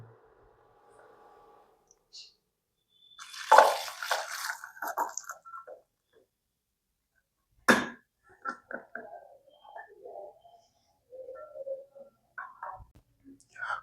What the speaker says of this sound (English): Now what we will do is strain the excess water